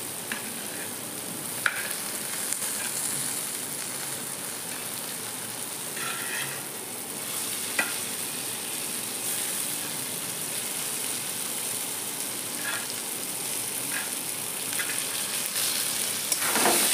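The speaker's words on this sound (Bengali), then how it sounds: "এখন আমি আলু আর পটলটা দিয়ে দেবো মশলায়।" Potatoes and pointed gourd frying in a spice paste for a Bengali prawn curry give a steady, close hiss of sizzling oil, broken by occasional sharp clicks of stirring, with no voices throughout.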